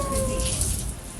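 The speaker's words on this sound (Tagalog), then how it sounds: "Halos mabasa ang mga pasahero ng LRT-1 dahil sa tumatagas na tubig sa bagon nito." Water leaks and splashes steadily inside an LRT-1 light rail train car near Monumento in Caloocan, a continuous hissing patter throughout the short moment with faint tonal hum in the background.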